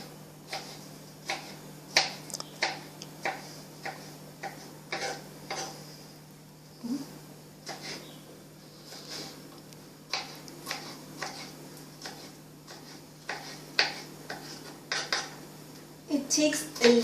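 A knife cuts vegetables for guacamole on a board, making a steady series of sharp chops and taps at an uneven rhythm, close and moderately loud, with a faint low hum underneath.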